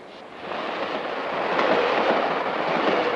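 A passenger train leaving Chicago rumbles along the tracks in a steady, broad roar that swells slightly louder, with no voices over it.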